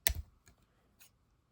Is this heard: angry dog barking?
no